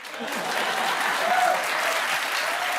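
Studio audience applause during a talk-show interview, a dense steady wash of clapping filling the whole stretch at close, even loudness.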